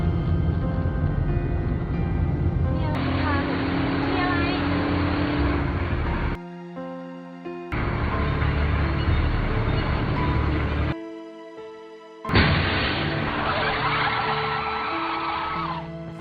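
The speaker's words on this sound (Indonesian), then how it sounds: "Tun yang panik langsung menancap gas dengan cepat agar terhindar dari hantu Natre" A car speeds away in a horror film, engine roaring loud and steady with tyre noise, broken by two brief quieter gaps before surging again.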